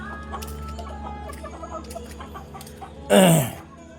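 Hens cluck softly in the background with a steady low hum, then one bird lets out a sudden loud squawk near the end.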